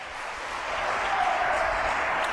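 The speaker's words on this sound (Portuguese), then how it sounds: "Aplaude ao Senhor" A church congregation applauding together, a steady dense wash of clapping that swells slightly and holds, loud and close without talk over it.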